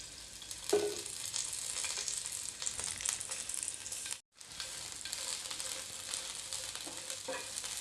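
Chili peppers frying in a few teaspoons of oil in a pan, a continuous moderate sizzle with occasional stirring clicks and a brief break midway.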